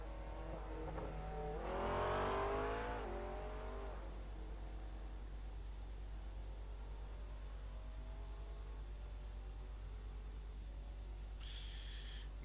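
A GT3 race car engine in a sim racing event at Watkins Glen swells to a loud, rising whine around two seconds in as the car nears, then settles into a steadier, fainter drone over a constant background hiss.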